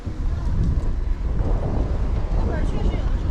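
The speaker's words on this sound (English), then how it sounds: "there's a decent gust blowing today" Strong wind gusting on a street in Wuhan, a continuous low roaring buffet across the microphone that surges and eases throughout, with a voice talking over it.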